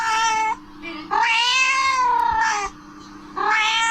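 A cat meows close by in three drawn-out, wavering cries, the middle one longest, separated by short quiet gaps.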